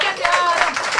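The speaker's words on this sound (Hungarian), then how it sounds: "Tapsal lehet őket bíztatni." Rhythmic clapping from guests at a traditional Hungarian tent wedding cheers on dancers, a quick steady beat of several claps blended with a voice talking over it.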